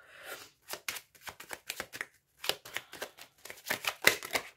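Tarot cards shuffled by hand in a series of close, bright riffling bursts and slaps, uneven in rhythm and alone without talk.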